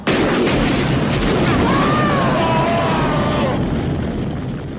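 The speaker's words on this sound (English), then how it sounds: "It's a great chase, which ends with a huge explosion and scream." A movie chase ends in a huge explosion sound effect with a scream: a loud, sustained roaring blast with a wavering high cry over it, fading out at the end.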